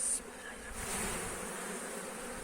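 Honey bees buzz around a hive during the first spring inspection, a steady close droning hum lasting a couple of seconds.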